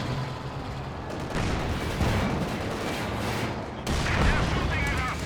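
A high-explosive artillery barrage in Company of Heroes 2 sounds as dense, rumbling booms and overlapping blasts, loud and continuous, with a commentator talking over the battle.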